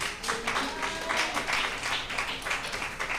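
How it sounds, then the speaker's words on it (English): Church congregation applauding the praise team during a service, a moderate wash of clapping that swells and holds steady, with some voices mixed in. "Can you please give us a round of applause to the praise team?"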